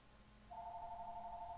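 A phone in an office lunchroom starts ringing partway through, a steady continuous electronic tone that is fairly faint against quiet room noise.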